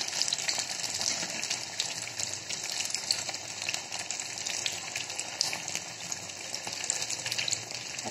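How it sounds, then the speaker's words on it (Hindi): Brain pakoras deep-frying in hot oil for Ramadan iftar, a steady dense crackling sizzle with fine bubbling that runs evenly throughout, fairly close, with no talking. "अच्छे से गोल्डन होने तक इसको फ्राई करना है।"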